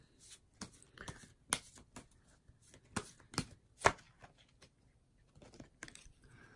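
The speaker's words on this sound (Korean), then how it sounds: "그러면 카드를 한 장 더 뽑아보도록 할게요" Tarot cards are shuffled and drawn in a quiet run of soft, close papery flicks and taps, irregular and sparse, with no voices.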